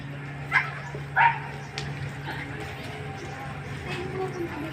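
Pit bulls at a river bank in Marikina, with a couple of close sharp barks and yips early on, then quieter outdoor ambience with a voice talking nearby.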